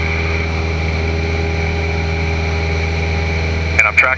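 Small airplane engine at full throttle with flaps up during a training-flight climb, a steady loud drone with a strong low hum that holds constant, broken by a brief clatter near the end.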